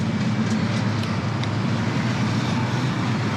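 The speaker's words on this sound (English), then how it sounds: "you can see there's a lot of traffic that comes through here." Heavy road traffic streams steadily through a busy traffic circle, a continuous dense rumble of cars and larger vehicles that holds loud and unbroken throughout, with no voices.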